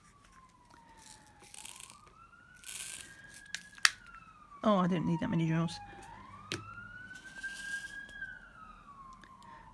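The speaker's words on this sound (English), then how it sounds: "Oh, sorry for the siren going past." A police or emergency vehicle siren passes outside on a hot city street, its wail rising and falling through the room behind a nearby voice and sharp tearing and crinkling from handling a cross-stitch project.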